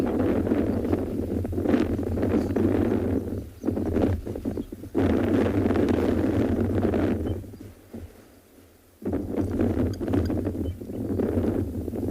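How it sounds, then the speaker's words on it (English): Strong wind gusting outdoors at dawn on a safari drive at Tswalu, a steady loud rush buffeting the microphone with a brief lull near the end before it surges again. "That wind is starting to pick up quite a bit."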